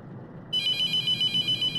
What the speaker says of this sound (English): Yeah, phone call.